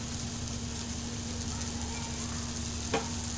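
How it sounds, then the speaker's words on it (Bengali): Tadka masala spice frying with tomato in a pan, a steady soft sizzle throughout under a low hum, with one brief clink of stirring near the end. "এটা দিয়ে কিছুক্ষণ আমি ভেজে নেব, যাতে মশলার কাঁচা গন্ধটা চলে যায়"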